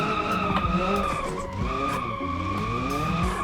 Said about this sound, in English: We're just gonna attempt some donuts here.